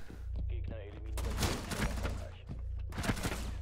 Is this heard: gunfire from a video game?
yes